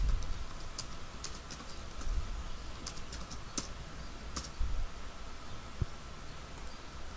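A computer keyboard and mouse in close, quiet surroundings: a few sparse, sharp clicks and key taps scattered over a steady background hiss.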